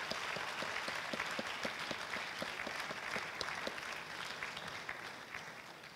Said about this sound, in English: give your parents and your families a round of applause for all they do